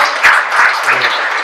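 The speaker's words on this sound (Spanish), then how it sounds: "les pido un nuevo aplauso para esta gente maravillosa" An audience applauds at an introductory talk for a political training course, broad bursts of clapping rising and settling in waves, fairly loud and close.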